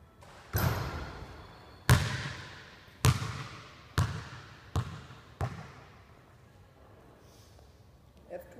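A basketball shot clanks off the rim and drops through. The ball then bounces on the court about five times, each sharp thud followed by a fading ring, alone and fairly close.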